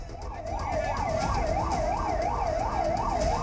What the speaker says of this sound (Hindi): एम्बुलेंस सायरन की गूंज